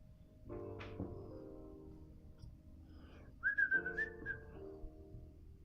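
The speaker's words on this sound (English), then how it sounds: "Do a little whistling." A person whistles a short, wavering tune, soft and close, with a few breathy notes before a clearer rising whistle.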